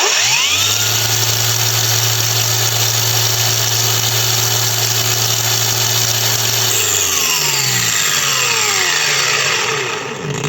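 DRIVAK AG001 cordless angle grinder revving up and running at maximum no-load speed, a loud steady high whine with a sustained motor tone that spins down near the end.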